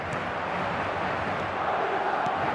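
A stadium crowd roars and cheers after a goal in the football video game eFootball, a loud, continuous wash of massed voices with no break.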